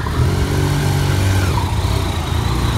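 Motorcycles ride along a mountain road, their mid-pitched engines droning steadily and loudly with slight rises in revs, a continuous close traffic roar with no talk.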